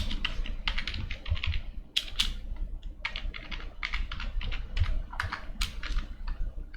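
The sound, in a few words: typing program code on a computer keyboard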